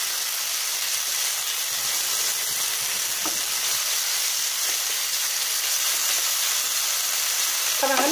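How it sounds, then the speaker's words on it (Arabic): Chicken pieces frying golden in a pan, a loud continuous sizzle and hiss with faint stirring scrapes and a brief clatter at the end. "نحرك لحد ما قلنا الدجاج ياخذ اللون الذهبي"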